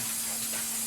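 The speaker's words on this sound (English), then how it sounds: "I'm going to go ahead and spray my loaf pans" Cooking spray hisses steadily from an aerosol can onto loaf pans in a home kitchen while pumpkin bread is being made, one continuous close, loud spray for under a second.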